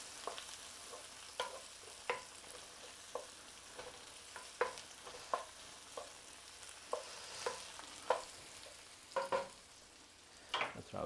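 Shallots and vegetables fry in a pan, with a quiet continuous sizzle broken by frequent sharp clicks and scrapes of a utensil stirring, somewhat irregular and close.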